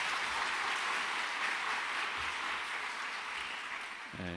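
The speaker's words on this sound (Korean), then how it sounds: "박수 한번 해주시기 바랍니다." Sunday worship congregation in a Korean church clapping together, a soft, even wash of many hands that fades slightly toward the end.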